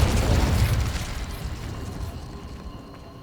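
A Confringo fire spell bursting in Hogwarts Legacy, one heavy booming explosion at the start that rolls and fades into a rumbling tail.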